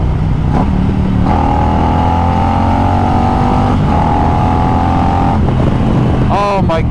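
A 2020 Harley-Davidson Road Glide Special with a 128-inch big bore kit rumbles loudly throughout with a steady engine drone and wind roar, pitch rising and falling as it pulls, while someone talks over it.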